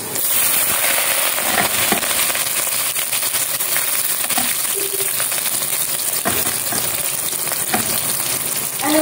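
Chicken feet frying in hot oil give a constant hiss with scattered sharp pops and crackles, close and fairly loud, under faint background voices.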